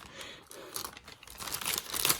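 Sealed plastic wrapping on a dot-grid planner crinkles and tears as it is cut open with scissors, a close, soft rustling that grows busier and louder toward the end.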